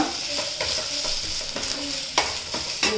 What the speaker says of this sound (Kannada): ಸೊ ಇದನ್ನೆಲ್ಲ ಹಾಕ್ಕೊಂಡು ಚೆನ್ನಾಗಿ ಫ್ರೈ ಮಾಡಿಕೊಂಡು